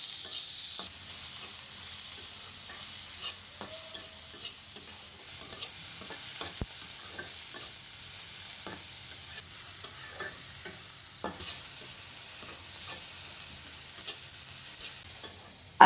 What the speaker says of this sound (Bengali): এবার ওই একই তেলের মধ্যে থেঁতো করা রসুন ও ১ কাপ পেঁয়াজ কুচি দিলাম